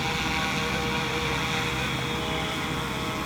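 Steady, loud whirring of a small RC helicopter, a continuous buzzing drone with no breaks, close by.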